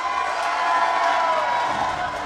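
A large crowd cheers and whoops steadily as fighter Billy Yates walks out to the red corner at the Heroes on the Mat 2 charity bout, a sustained loud roar with no break.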